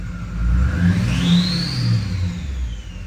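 Duramax diesel truck engine fitted with Stainless Diesel 5-blade drop-in turbos, revving to about 2000 RPM inside a shop: a loud, steady low rumble with a rising turbo whistle that swells and fades across three seconds, no voices.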